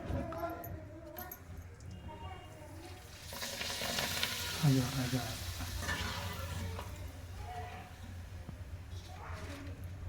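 Masala papad frying in very hot oil, a steady crackling sizzle throughout with a louder bubbling burst midway, close up, with a voice speaking over it.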